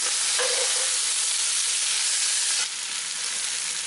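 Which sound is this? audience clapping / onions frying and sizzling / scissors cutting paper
onions frying and sizzling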